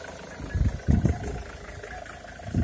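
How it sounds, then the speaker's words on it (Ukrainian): A Ford Mondeo engine runs at idle with a low rumbling hum and a few soft, irregular throbbing pulses. The sound is moderate in level and heard close up. "Так працює двигатель."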